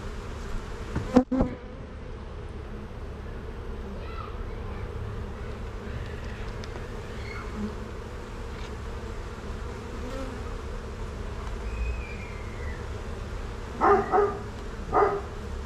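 Honeybees buzz steadily around an open hive during a sunny-day inspection, a continuous near drone with brief louder bursts as individual bees pass close, plus a sharp knock early on.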